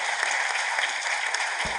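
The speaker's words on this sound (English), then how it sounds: "A round of applause to my panelists." A conference audience applauds panelists at an annual meeting, a steady dense wash of clapping close and loud throughout, with a low thud near the end.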